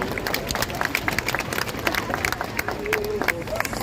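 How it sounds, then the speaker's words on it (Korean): Crowd at an anti-homosexuality rally in Daegu applauds to welcome a pastor to the stage; scattered, uneven clapping with crowd noise and some murmuring, moderately distant. "큰 박수로 환영해 주십시오."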